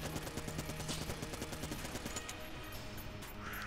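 Rapid video game gunfire from a freshly switched weapon in Enter the Gungeon, a steady stream of close, evenly spaced shots over a constant game soundtrack.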